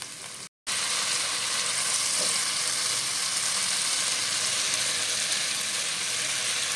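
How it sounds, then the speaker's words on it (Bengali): Spice masala of dried chili powder, turmeric and Kashmiri chili powder frying hard in a pan for a vegetarian dish, a steady loud sizzle with no talk, cut by a brief dropout near the start. "মশলাটা প্রায় কষা হয়ে গেছে।"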